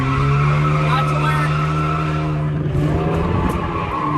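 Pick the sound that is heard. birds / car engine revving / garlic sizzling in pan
car engine revving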